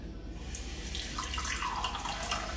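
Mint lemonade being poured into a glass, a steady watery splash running continuously and fairly close for a couple of seconds, with no talking.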